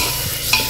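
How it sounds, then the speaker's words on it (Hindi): Mutton with salt and turmeric being stirred in a cooking pot for a Hyderabadi aloo gosht sour shorva, a brief close scraping and sizzling stir with a small clink midway. "अब हम डालेंगे मटन, इसे अच्छे से मिक्स कर लीजिए"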